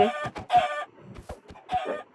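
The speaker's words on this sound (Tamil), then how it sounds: "ஜாலியா கோழி ஜாலியா பறந்து போகுது" Chicken in the Minecraft video game, a series of close clucks and squawks in quick irregular bursts, alone with no talk.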